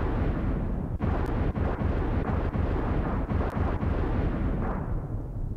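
A boss explodes in the SNES role-playing game Secret of Evermore as a dense, sustained rumbling blast with a series of sharp crackling pops layered on top, loud and continuous from start to finish.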